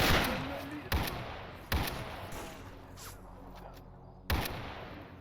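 Three sharp gunshots crack in S.T.A.L.K.E.R. Anomaly, a loud one at the start, another around two seconds and a final report near the end, each ringing over a low rumbling outdoor ambience.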